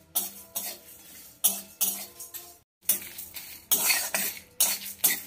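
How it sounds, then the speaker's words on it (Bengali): Spoon scraping and clinking against a pan in repeated stirring strokes as spices dry-roast on low heat, with dry rustling between them and a brief pause midway. "সব মশলাগুলো কম আঁচে ভালো করে ভেজে নেব"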